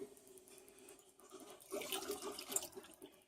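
Homemade elderberry pomegranate kombucha is poured with a dipper, making a soft splashing, trickling flow of liquid that grows louder midway, with no voices.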